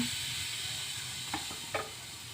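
Cumin seeds and garam masala sizzle in hot oil for a dal tadka, a steady close hiss of frying with a couple of soft stirring clinks near the end.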